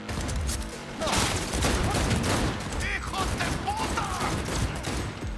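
Loud gunfire in the video game Cyberpunk 2077 comes as dense overlapping bursts and shots over several seconds, with mechanical clacks mixed in.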